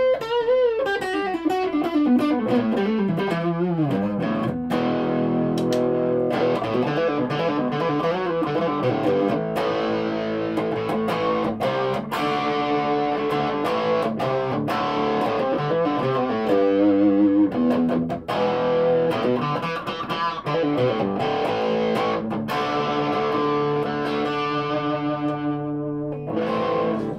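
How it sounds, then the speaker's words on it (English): Distorted electric guitar, a Yamaha AEX520, plays a continuous run of notes and chords, loud and steady throughout with a gritty, saturated tone. "Go for some distortion."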